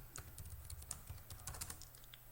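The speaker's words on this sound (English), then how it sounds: "type in a sudo bleachbit, type in a password" Rapid keystrokes on a computer keyboard as a command and password are typed into a Linux terminal on Zorin OS, a quick uneven patter of close clicks running steadily throughout.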